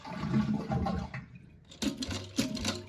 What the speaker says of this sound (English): empty your fill tank in the back completely, as much as you can, just by flushing it with the water turned off